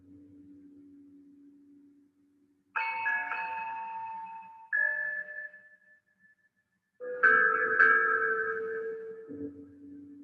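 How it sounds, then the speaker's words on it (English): Chimes ring in a Dragon Palace film soundtrack: a low sustained tone gives way to bright struck chime notes in two separate clusters that ring and decay, then the low tone returns. "this is the chimes voice"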